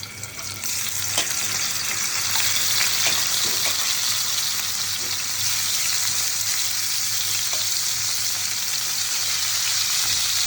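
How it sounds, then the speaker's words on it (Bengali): Rui fish pieces frying in hot oil for a Bangladeshi fish recipe, a loud, continuous close-up sizzle that holds steady throughout, with no one talking. "খুব ভালো মতো মাছগুলি আমি ভেজে নিব উল্টিয়ে পাল্টিয়ে একদম কড়া করে ভেজে নেব"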